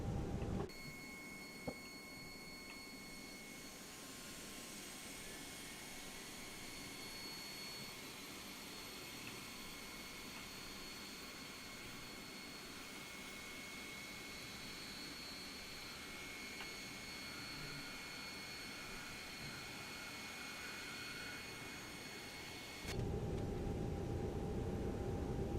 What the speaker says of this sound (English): so we'll start the engine now